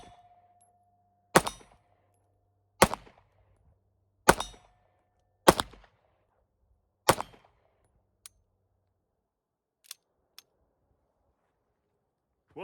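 Five sharp pistol shots from a Browning High Power FN at an outdoor range, evenly spaced about a second and a half apart, loud with short echoing tails, followed by a few faint distant pops.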